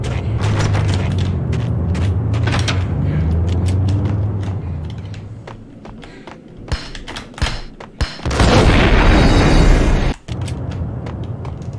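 A grenade explodes in Max Payne with a loud, rumbling boom, followed by sharp impacts and gunfire-like cracks and a dense burst of blast noise late in the clip.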